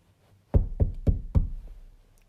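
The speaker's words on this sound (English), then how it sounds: "there was a loud knock on the front door" Four loud, sharp knocks on a front door in an even, quick rhythm, each a heavy thud, standing alone against near silence.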